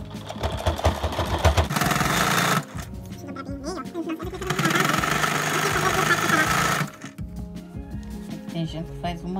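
A sewing machine stitches a chair cover in two steady runs of a few seconds each, loud and close, with a quieter pause between them.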